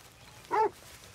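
A dog in the Red Dead Redemption 2 video game gives one short, moderately loud bark that stands out clearly against a faint, quiet background.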